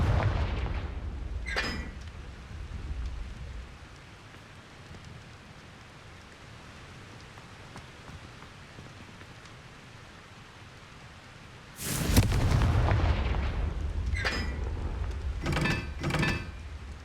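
Confringo fire spell blasts in Hogwarts Legacy, several loud booming bursts, a short one early and a heavy sustained blast later followed by two quick sharp bursts, with quieter rumbling ambience between.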